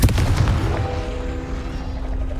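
A Confringo fire-blast spell bursts in Hogwarts Legacy with a loud, punchy boom right at the start, then a lingering low rumble and a faint ringing tone as it dies away.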